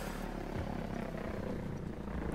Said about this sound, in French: j'ai fait une réapparition dans un hélico aux commandes d'une mitrailleuse